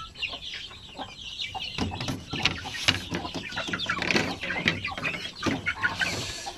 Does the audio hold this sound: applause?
no